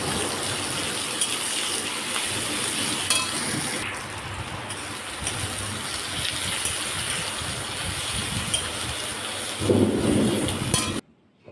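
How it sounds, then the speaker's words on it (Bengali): Heavy rain pours steadily outside an open, unshuttered kitchen window, a loud continuous hiss with low thunder rumbling underneath that swells near the end. "আর জোরে বৃষ্টি নেমে গেছে, দেখো প্রচুর জোরে জোরে বৃষ্টি পড়ছে।"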